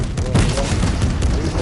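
Gunfire in a PS4 video game, a dense burst of rapid shots and booms running continuously throughout, with a player's voice talking over the shooting.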